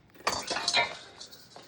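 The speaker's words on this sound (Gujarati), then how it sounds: "મમ્મી વાસણ ધોઈ રહી છે" Dishes and utensils clink and clatter at close range during washing, a short burst of metallic chinks over about a second that then fades.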